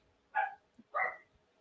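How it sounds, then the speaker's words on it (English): A dog gives two short, sharp barks close by, separated by a brief pause, in an otherwise quiet room. "You should listen to my dog."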